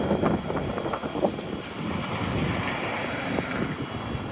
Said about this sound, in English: Got a rough wind right here.